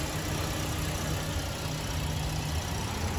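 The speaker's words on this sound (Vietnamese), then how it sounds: "Các bạn nghe động xe động cơ này" A 2018 manual-transmission Toyota Vios sedan engine idles with the hood open, a steady, even mechanical hum with no changes in revs across the few seconds, close and alone without talking.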